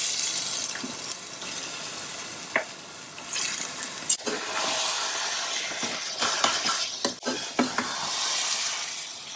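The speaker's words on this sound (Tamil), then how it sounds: "இப்போ வந்து சிக்கன் போடுறேன்." Chicken pieces drop into frying masala in a pan for a chilli chicken roast, giving a watery, hissing sizzle broken by irregular stirring clinks and scrapes, with no talking.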